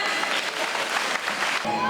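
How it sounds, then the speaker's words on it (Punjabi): An audience at a Punjabi gathering in Australia breaks into dense, sustained applause, a wash of many hands clapping together with voices mixed into the crowd noise. "ਮਾਰੋ ਤਾੜੀਆਂ"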